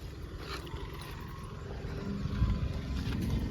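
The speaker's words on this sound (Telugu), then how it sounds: "వెహికల్ నాయిస్ కూడా మీకు ఒకసారి వినిపిస్తాను. బ్యానెట్ లేపి ఒకసారి స్టార్ట్ చేయి" Tata Zest car engine running with the bonnet open, a close, loud steady rumble that swells slightly midway and continues evenly, with no voices.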